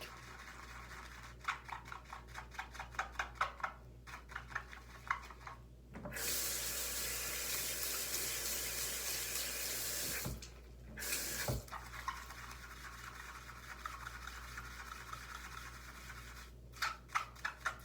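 Tap water runs steadily into a sink while makeup brushes are scrubbed clean, a continuous rushing stream broken by short pauses and bursts of wet rubbing and dripping, close and moderately loud with no talking.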